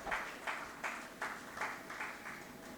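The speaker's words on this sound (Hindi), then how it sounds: "सर का एक बार फिर तालियों के साथ स्वागत करें।" Audience at an inauguration ceremony of a literary festival clapping to welcome a guest on stage: faint, rhythmic unison claps in about seven even beats, distant and soft.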